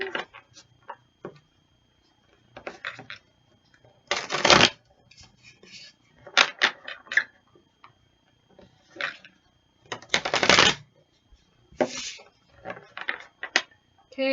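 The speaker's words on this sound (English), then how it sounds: "let's give it a little bit of a shuffle" Bursts of tarot cards being shuffled, crisp riffling flurries repeating several times with short pauses and soft handling taps between them.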